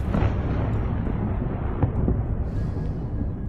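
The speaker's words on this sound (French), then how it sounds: "J'entends qu'il y a des explosions qui sont en cours." Low, rumbling booms of explosions roll in from far away at about 4 a.m. at the start of the war in Ukraine, under a constant dull roar, with a couple of muffled thuds standing out.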